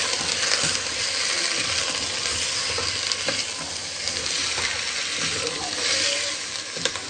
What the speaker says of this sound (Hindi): इस तरीके से स्लो स्पीड पे हम इसको फ्राई करते रहेंगे 10 मिनट।